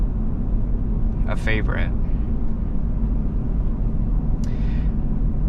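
Steady low engine rumble and road noise inside a 1997 Ford Expedition Eddie Bauer driving at night, continuous and close, with someone talking briefly over it.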